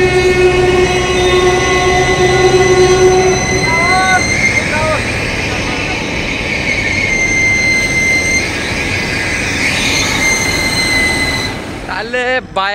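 A train loudly crosses a railway bridge at Jamshedpur, with a sustained rumble, long tonal horn-like notes and a burst of wheel squeal near the end. Voices can be heard under the noise.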